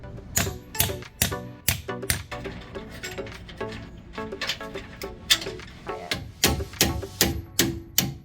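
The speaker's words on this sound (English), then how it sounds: "we're gonna go ahead and use the mallet to tighten that top" Mallet blows tapping the top of a Jeep control arm to tighten it, a steady series of sharp metallic knocks in quick clusters, close and fairly loud with no talking.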